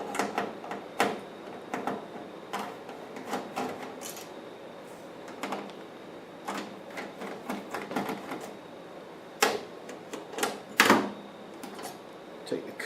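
Screws being removed from the cover plate of a Vizio TV board, heard as scattered close clicks, scrapes and small metallic knocks with quiet gaps between them.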